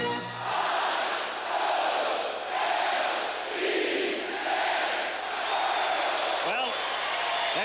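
A large stadium crowd at a 1983 World Series baseball game between the Phillies and Orioles in Baltimore, led by superfan Wild Bill Hagy, roars in rhythmic, swelling waves of chanting and cheering, loud and continuous with a few whistles.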